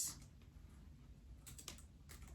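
A name typed on a computer keyboard: faint, quick keystroke clicks in a quiet room, a few taps close together near the end.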